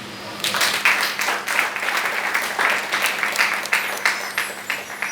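Applause from a church congregation during a sermon, sustained and dense clapping with a steady crowd roar, fairly close and loud throughout, a low constant hum underneath.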